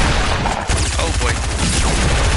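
Rapid SMG gunfire in Fortnite, a dense, loud burst of shots that continues without a break, with other game sounds mixed in.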